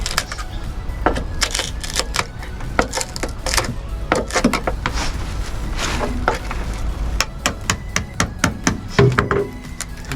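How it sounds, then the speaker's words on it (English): A blunt chisel is hammered into the rusty floor of a VW T4 campervan, a rapid series of sharp close metallic knocks and taps in uneven bursts, with no talk. "my blunt chisel has just gone straight through the floor"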